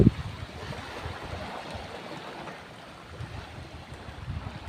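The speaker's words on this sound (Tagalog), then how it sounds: "Dito tayo sa tabi ng dagat." Sea waves at Paraiso beach in Sariaya, Quezon, a steady broad wash of surf with gentle swells and light wind, continuous and moderately loud with no talking.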